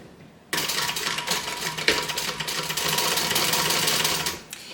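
A sewing machine stitches across the corner seam of a bag. It starts abruptly and runs as a loud, close, continuous rapid whir with a steady mechanical clatter for about four seconds, then stops, and there is no talking.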